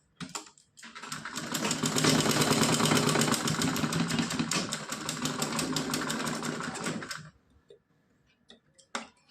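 A sewing machine stitches fabric for a Laddu Gopal night dress in a fast, steady mechanical whir of rapid ticking lasting several seconds, close and loud, then stops with a few scattered clicks.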